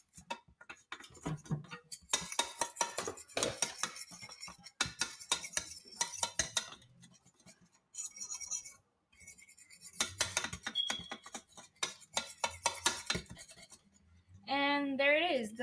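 A spoon stirs cake mixture in a bowl, giving rapid close clinks and scrapes in bursts with short pauses between them.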